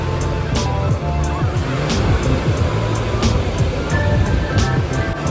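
Waves washing over a rocky beach in the South of France, a continuous loud roar of surf with rumbling low wash and rattling hiss, near and unbroken, with faint crowd noise beneath.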